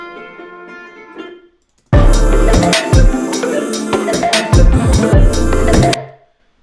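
A dense, choppy loop of stuttering, chopped-up chords with deep booming bass hits, loud and abrupt, cutting in after a softer tonal passage and stopping suddenly.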